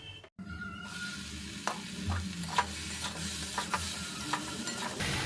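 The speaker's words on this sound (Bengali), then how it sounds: "মশলাটাকে একটু ভাজবো, তো আবার ঢাকা দিয়ে দিলাম" Spices fry in a covered pan on a gas flame, making a continuous sizzle with soft popping and stirring clicks. The sizzle begins right after a brief silent gap and carries on without talking.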